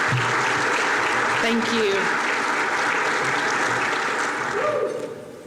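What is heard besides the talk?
audience applauding and cheering the governor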